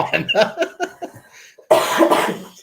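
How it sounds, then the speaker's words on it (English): A person with a lingering residual cough: one burst of harsh, close coughing comes after a short stretch of talking. "I have a little bit of this residual cough"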